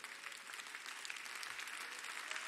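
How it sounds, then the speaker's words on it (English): A church congregation applauds at an evening service, a steady, even wash of many hands clapping without pause, fairly soft and with no voices over it. "Would you go ahead and clap for the word of God tonight?"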